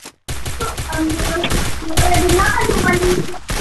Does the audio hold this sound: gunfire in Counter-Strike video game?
yes